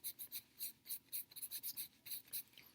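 A tissue wrapped around a fingertip rubs marker shading across paper in a quick series of about fifteen short, close, dry scrubbing strokes with brief gaps between them.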